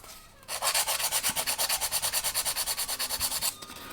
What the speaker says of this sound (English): just do it with a sanding stick